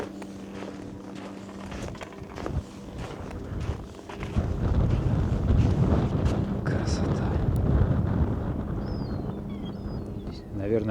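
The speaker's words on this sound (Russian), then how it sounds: "Наверное, вы слышите, как ветер задувает." Strong wind gusts along a waterfront where sailboats and yachts are moored, buffeting the microphone with a low rumbling roar that swells in the second half, while a voice talks over it.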